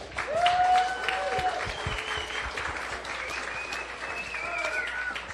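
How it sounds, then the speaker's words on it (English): An audience at a women's stand-up paddle world tour gathering in a bar claps, a moderate scattered patter with whistles and a few cheers rising over it. "a big round of applause for all the women who are going to be in action tomorrow"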